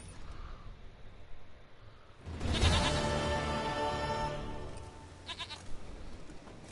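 A goat in The Witcher video game lets out one long, wavering bleat in the middle, clear over quiet game ambience and followed by a few fainter sounds.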